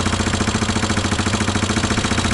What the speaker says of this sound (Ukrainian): Став два рази подиркав і він завівся.